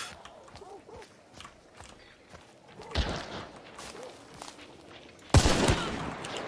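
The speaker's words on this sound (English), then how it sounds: "I keep turning around and shooting people" Gunfire from a multiplayer video game shooter: scattered shots and bursts with a loud close volley near the end, amid busy game noise and footsteps.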